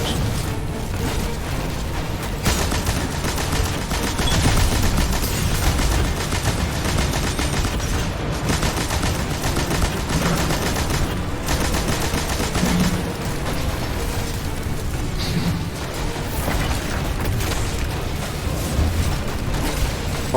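Loud, sustained gunfire in the video game Destiny 2: rapid bursts and repeated shots overlap with explosive booms and mechanical clatter, continuous throughout.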